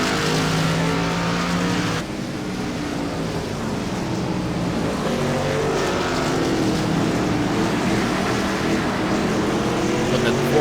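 Race trucks at Martinsville, including a Ford, drone steadily past at close range, a loud continuous engine roar with shifting pitch and no pause.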